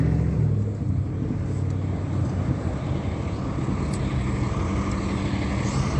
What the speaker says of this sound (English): That's Ricardo driving the Golden Bear towing truck